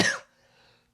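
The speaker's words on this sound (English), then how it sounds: "I thought it was over this cough." A single sharp cough from a man at home, loud and close, ending quickly and followed by near silence.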